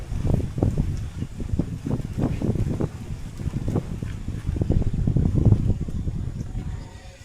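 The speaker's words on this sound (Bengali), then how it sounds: "এখন প্রচুর বাতাস চালাইছে এদিক থেকে।" Strong wind sweeps through a banana garden, buffeting the microphone in uneven low gusts and rustling steadily, loud and close for the whole stretch.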